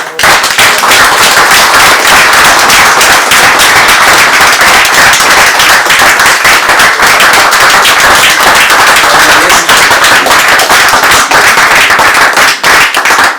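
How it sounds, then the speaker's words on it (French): Loud, dense applause from a large crowd at a political campaign support committee launch in Fontainebleau, sustained sharp clapping throughout without pause. "c'est son engagement à lui qu'on va applaudir"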